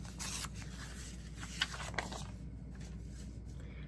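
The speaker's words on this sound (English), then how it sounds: "So down here, let me go ahead and cut this." Scissors cutting through old 1907 ledger paper, a soft crisp snipping and scraping close by over a steady low background hum, with two small sharp clicks partway through and no talking.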